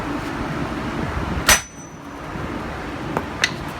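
A hammer strikes the wheel hub assembly of a 1999–2007 GMC Sierra/Chevy Silverado 1500 truck, giving one loud metallic bang followed by two fainter taps against a steady background rumble.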